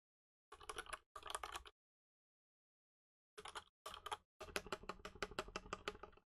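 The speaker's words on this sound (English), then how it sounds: "You're just typing, I'm just randomly pressing all buttons." Keys on a Redragon K630 wired RGB mechanical keyboard clatter in fast, dense bursts of random presses, close and crisp, with two short flurries, a silent pause, then a longer sustained run of rapid clicking.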